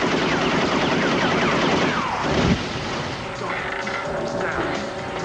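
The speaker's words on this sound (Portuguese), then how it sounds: "Ele não pensa duas vezes antes de puxar o gatilho e ele agora está atirando com muito mais estilo." Gunfire from a video game trailer, dense rapid shots and crashes filling the whole stretch, loud and continuous with a heavy impact near the middle, mixed under music and effects.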